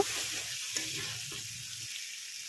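Chicken kosha sizzles and spatters in a pan as it is stirred once its juices have cooked off, a brief, close, steady frying hiss with light scraping and no talk.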